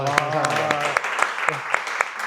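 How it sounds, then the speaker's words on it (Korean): An audience at a charity-supported talk event gives a short round of scattered clapping, sharp individual claps spaced through the moment while a voice briefly speaks over the start. "한번 우리가 박수로 응원 한번 해볼까요?"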